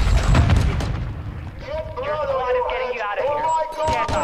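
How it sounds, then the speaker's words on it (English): Grenade explosion in Call of Duty Warzone, a heavy, loud boom at the start that decays into rumble, followed by game sounds and voices talking over it. "I just jumped into a grenade"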